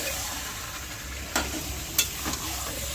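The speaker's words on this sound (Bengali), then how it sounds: "চিকেনটা দিয়ে দশ থেকে পনেরো মিনিট ধরে কষাবে ভালো করে নাড়াচাড়া দিয়ে নিতে হবে" Chicken and tomato frying in a pan for a yogurt chicken curry, a steady close sizzle with a few sharp scrapes of a stirring spoon, no talking.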